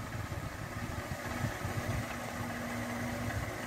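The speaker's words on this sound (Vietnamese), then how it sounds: "Máy nổ rất là tròn tiếng và chắc chắc máy bác nhé" A 2008 Chevrolet Gentra engine idles smoothly and evenly, a low steady hum with a faint rhythmic pulse, close by and fairly quiet.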